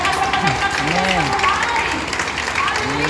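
A church congregation at a prayer revival meeting claps steadily, with voices and shouts over the continuous applause.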